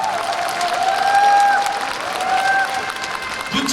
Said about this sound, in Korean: 더큰 박수 부탁드리겠습니다